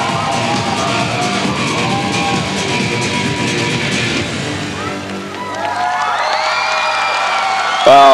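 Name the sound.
crowd cheering a fitness routine in Hungary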